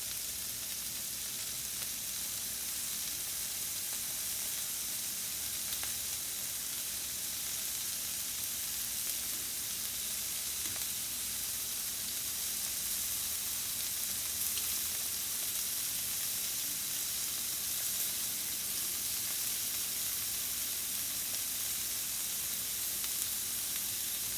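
Shrimp sizzling in a pan over medium-high heat, a steady, dense frying hiss that holds evenly throughout, close and unbroken, with no talking.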